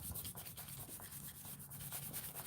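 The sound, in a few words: rubbing and pressing a glued card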